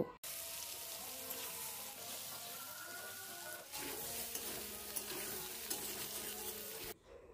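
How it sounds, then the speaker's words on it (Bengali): Boiled potatoes and green jackfruit fry in hot oil, giving a loud, steady sizzle close up, with occasional scraping from stirring. "এঁচোড় আর আলুগুলোকে একটু আমি ভালো করে ভেজে নেব।"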